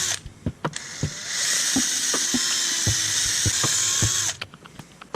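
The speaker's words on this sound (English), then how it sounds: "If you have a drill though, this is a pretty easy task." A power drill bores holes in small Astrojax end balls: a steady, high whine lasting about three seconds. Sharp clicks and handling knocks come before and after it, all close and with no talk.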